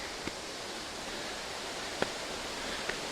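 Abangan waterfall at Dingalan gives a soft, even rush of falling water heard from some distance, a faint steady wash broken by a few brief small clicks or footsteps.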